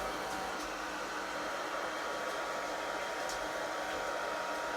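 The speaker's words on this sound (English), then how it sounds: "I'm just going to move him down or move my hairdryer up." A hairdryer blows in a steady, even roar onto a puppy's fur during bath drying, close and constant throughout with only slight shifts in tone as the dryer moves.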